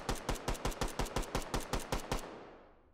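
A rapid string of about a dozen sharp pistol shots in the VR game Hot Dogs, Horseshoes & Hand Grenades, evenly spaced and close, then a ringing tail fading out.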